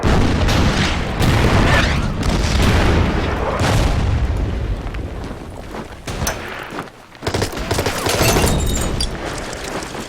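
Artillery shells pound a town in the Order of Battle video game during the Winter War at Suomussalmi, with heavy booms and blasts rolling one after another in a loud, dense barrage.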